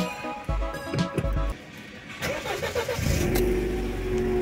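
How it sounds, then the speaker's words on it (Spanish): A 1999 Mercedes CLK 200 with 230,000 km is started: the starter cranks briefly, the engine catches with a rev, then settles into a close, steady idle. "Y ahora vamos a ver qué tal suena este motor."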